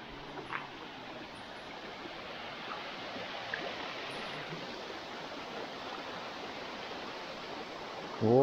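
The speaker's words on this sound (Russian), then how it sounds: "Уже слышно шум воды, шум водопада." A waterfall in a deep mountain gorge in Dagestan gives a steady, moderately faint broadband rush of falling water, continuous and distant-sounding, with a brief louder burst at the very end.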